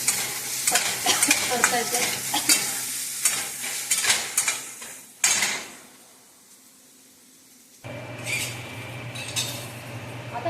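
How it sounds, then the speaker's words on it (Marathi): Onion sautéing in a pan on a turned-down induction cooktop while amaranth-leaf bhaji is cooked, with scraping stirs and clinks over a low sizzle, a near-silent gap midway, then the sizzle returns steady. "हा कांदा परतून घेतला"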